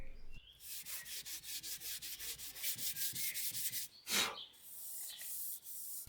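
A large sanding block rubbed over body filler on a BMW 320i E36 under restoration, giving quiet, regular back-and-forth scratchy strokes with a brief louder scrape near the end.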